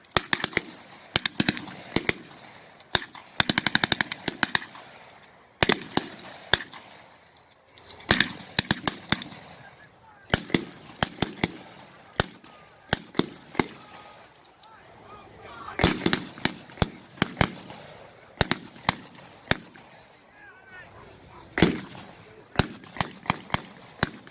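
Marine fire teams in a historical company demonstration fire rifles and machine guns in rapid bursts and scattered single sharp reports, loud and outdoors, with some faint talk between volleys.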